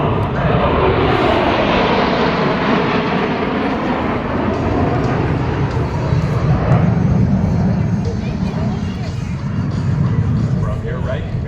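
Jet aircraft in close diamond formation rolling past at an air force base air show, a loud sustained roaring rush of engines throughout, with an announcer speaking over it.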